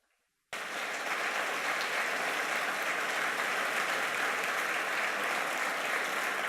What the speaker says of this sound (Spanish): Yo pensé que usted iba a aplaudir al Señor.